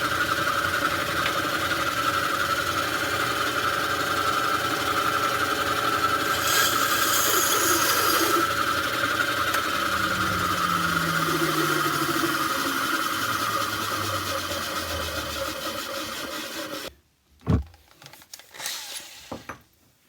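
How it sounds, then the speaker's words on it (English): Sanding a wooden Christmas star with a power sander, a steady close motor drone and whir that runs for about seventeen seconds before cutting off, followed by a few brief knocks and handling sounds. "Now I'm going to sand that off, put me a dowel rod through it, and I'm going to add it to it."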